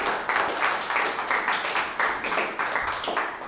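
A gallery audience in Berlin applauds a visiting artist with a steady, moderate round of hand clapping that keeps an even pulse throughout and does not swell into a big ovation.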